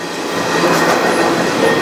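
A train rolls past another train at night at a railway junction in Huntington, a steady, loud rumble and rattle of wheels close by with no talking.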